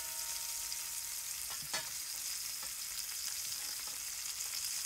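Boliche, a Cuban stuffed beef roast, frying in a big pot, giving off a steady close sizzle with a few brief pops and spatters and no talk.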